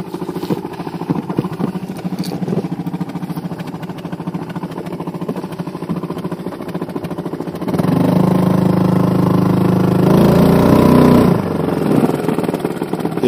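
Outboard motor of a fishing boat running with a heavy poachers' fishing net snagged and wound around it, a steady close mid-pitched engine drone that grows louder and rougher toward the end, with no talk.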